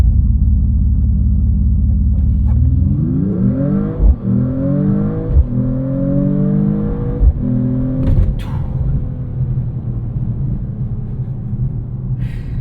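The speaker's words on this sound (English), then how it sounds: "You can do the race start, which gives you the full 604 horsepower." A 2026 Mercedes-AMG E53 wagon with a turbocharged inline-six launches in race-start mode from a low idle rumble into a surging engine note that climbs through several quick gear changes, loud and close.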